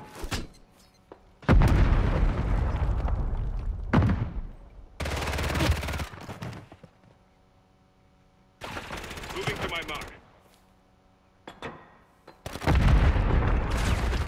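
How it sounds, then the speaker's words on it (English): Call of Duty firefight with thermite and sticky bomb blasts: loud bursts of explosive booms and rapid gunfire arrive in several separate clusters, separated by quieter gaps with low background hum. "They're throwing thermite at you. Sticky bombs."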